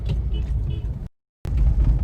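Car interior rumble while driving in city traffic, a steady low drone with faint tonal whines, cut by a brief dead silence before the rumble resumes.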